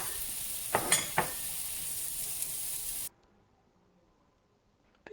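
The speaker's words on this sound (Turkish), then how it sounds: "Bütün köftelerimi kızartıyorum." Brief sizzle of meatballs frying in hot oil with a few clattering scrapes, then it cuts off abruptly to near silence.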